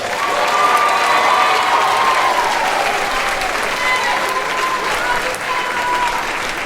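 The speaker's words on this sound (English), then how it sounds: "If we can give them a huge round of applause." Audience at a school band and choir spring concert clapping for the choir seniors, a dense, sustained round of applause from a large crowd with a few faint voices mixed in.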